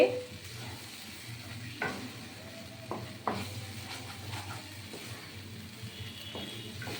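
A carrot chocolate-chip sandesh mixture is stirred steadily in a pan with a soft sizzle, and a few sharper scrapes and knocks of the spoon stand out. No one speaks.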